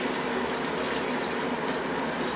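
Water poured steadily into a soup pot while making pumpkin vegetable soup, a continuous even rushing and gushing that stays close and fairly loud throughout, with no talking over it.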